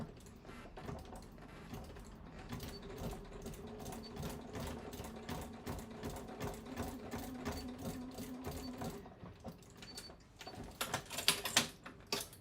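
A sewing machine stitches fabric for a bag's main outer during a sew-along, a steady rapid mechanical run lasting most of the stretch, close and fairly quiet, ending with a few sharper clicks and handling sounds.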